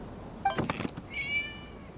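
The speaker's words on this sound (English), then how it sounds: "It was just a cat." A cat meows in the video game Genshin Impact, a short nearby cry followed by a higher drawn-out mewing tone, fairly quiet against a soft background hum.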